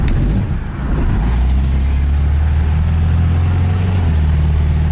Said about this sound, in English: The way I just got on the throttle there for a second and let off